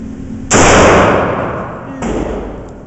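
Two loud close gunshots ring out in the open air of a shooting range from a Cobra CB38BB Big Bore Derringer; the second shot follows about a second and a half after the first.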